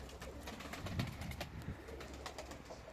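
Soft, low coos from young pigeons on a rooftop come through faintly over quiet background noise, a couple of calls without any talking.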